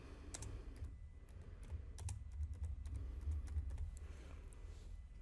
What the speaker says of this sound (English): We just type.